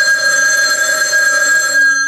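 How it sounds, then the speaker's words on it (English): A telephone bell rings continuously on a high school theatre stage during a performance of a farce, a bright sustained metallic trill heard loud and close with no talk over it. "There it is again! That's the phone, Ken!"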